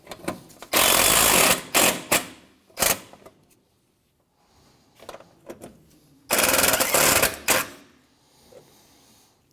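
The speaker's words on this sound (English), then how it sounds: "go ahead and tighten these bolts down." Bolts on a 2007-2013 Mitsubishi Outlander bumper are driven tight with a power tool, heard as loud, close rattling bursts of a few seconds each, separated by quieter pauses.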